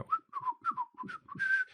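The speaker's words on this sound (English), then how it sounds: "You can hear very clearly like a person whistling coming from down, echoing down the hall" A person whistles a short, chirpy tune of quick rising and falling notes, faint and slightly echoing as if down a hall, with nothing else heard.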